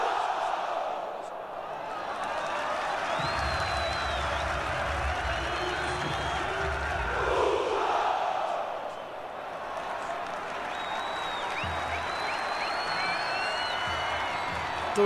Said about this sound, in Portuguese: Se liga na festa da torcida do Sport